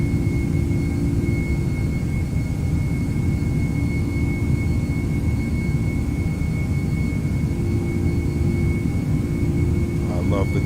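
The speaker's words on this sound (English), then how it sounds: "Engines are just screaming." Boeing 757 jet engines in X-Plane 11 roar loud and steady during the takeoff roll at a high-altitude airport, a constant whining drone with a voice over it.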